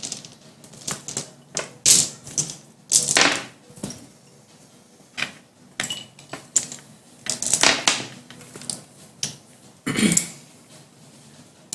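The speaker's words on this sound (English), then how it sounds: "Gotta find the right dice." Dice shaken and rolled during a tabletop game session, a string of sharp clattering bursts with repeated rattles and tumbles across roughly twelve seconds, close and fairly loud with no talking.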